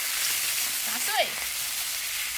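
Water goes into a hot pan of sizzling ingredients while Sichuan maocai is being cooked, giving a steady frying crackle with a short hissing swell partway through.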